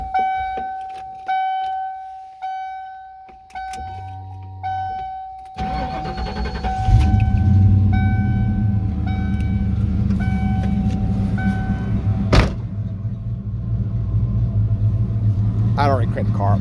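A 1995 Ford Mustang GT V8 engine turns over and settles into a steady, loud idling rumble after a few seconds of beeping and clicking.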